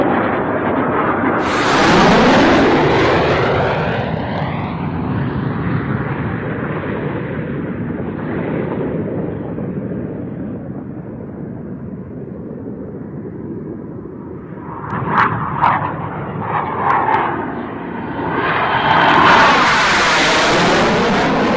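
An aircraft takes off with a loud, sustained roaring engine rumble that swells early, holds steady, then rises again with brief surges near the end.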